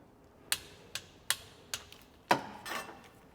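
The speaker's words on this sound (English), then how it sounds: "torquing up the fill and drain plug on the diff, 50 Newton meters" Sharp metallic clicks from a torque wrench tightening the differential fill and drain plug on a Mercedes C63 to 50 newton meters, several separate close ticks followed by a louder final click.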